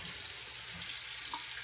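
Small amount of water added to a cast iron frying pan, a soft continuous running-water wash with light splashy hiss, close and steady for a brief moment.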